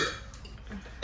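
A woman lets out a short, fairly loud burp near the end of a brief, mostly quiet stretch of faint room noise.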